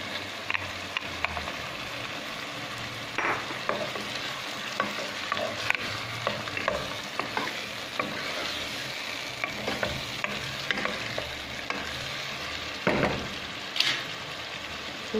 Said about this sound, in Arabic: وكي تقلى لي مليح البصل هاذيك الذبال والدجاج تقلى